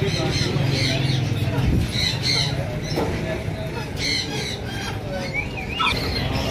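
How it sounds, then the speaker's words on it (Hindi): Caged white frillback pigeons at a Sunday bird market in Bahawalpur give repeated sharp squawks and squeals amid busy crowd noise, with someone talking over them. "ये दूसरे केज के बर्ड्स हैं, white frill bag, quality birds हैं।"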